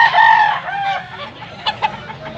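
A two-year-old white-legged fighting rooster (gamecock) at a cockfighting breeder in Cebu clucks and gives short crowing calls, loud and close, with a few sharp clucks toward the end.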